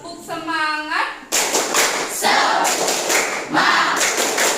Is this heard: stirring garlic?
no